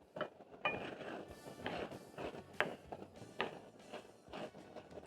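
A spoon stirring Kenyan black bean githeri with coriander in a pot, faint scattered clinks and scrapes against the pot with soft rustling, quiet and close.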